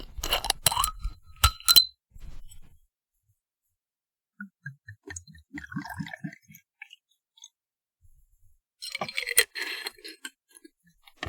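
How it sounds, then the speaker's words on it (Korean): A glass soju bottle is opened at a cluttered desk: sharp clicks and crackles of the twisted cap, a quiet stretch with a soft murmur, then more glassy clinks and rattles close to the mic. "일단은 소주 까는 소리부터."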